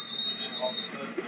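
A referee's whistle at a high school football game gives one sustained shrill blast lasting almost a second, then cuts off, leaving faint stadium ambience.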